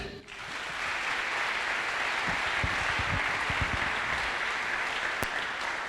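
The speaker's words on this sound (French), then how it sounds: "Acclame Jésus." A church congregation claps together in sustained, dense applause during a French-language sermon, the clapping steady and fairly loud, with a faint hint of voices beneath.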